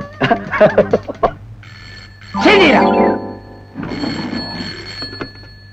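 A telephone rings in a couple of short bursts, with people talking before and between the rings.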